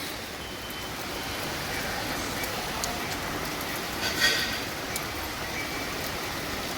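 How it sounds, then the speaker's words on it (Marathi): Heavy monsoon rain pours steadily in rural Konkan, a dense even hiss throughout with a faint brief clatter partway through. "आज आहे ना जोरदार पाऊस सुरू आहे."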